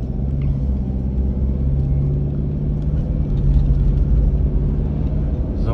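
Inside a Toyota Prado 150 with the 3.0L diesel under medium acceleration, a continuous low engine rumble and drone holds steady and moderately loud throughout, with no talking.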